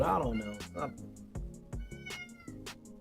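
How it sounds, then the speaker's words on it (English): A house cat meows repeatedly in the background, several short plaintive cries spaced about half a second apart, while someone talks over them. "Pet this annoying cat."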